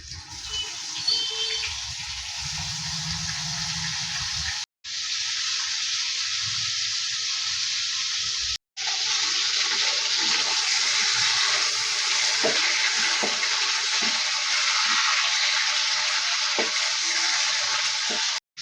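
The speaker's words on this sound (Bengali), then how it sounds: "মাছটা ভেজে নেব।" Shrimp fry in a kadai for a Bengali mustard-poppy prawn dish, a loud, steady sizzle, close up, broken by two brief silent gaps, with small pops and stirring scrapes.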